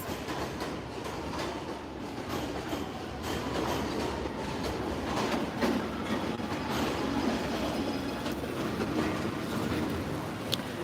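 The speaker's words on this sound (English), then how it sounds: "You hear this loud ass train every 2 seconds?" A loud passing train in a concrete city neighborhood, a continuous rumbling roar with clickety-clack of wheels and faint metallic squeals, heard alone for several seconds at moderate distance.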